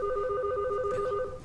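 A telephone rings loudly and close, with a continuous warbling electronic trill that holds steady and then cuts off near the end.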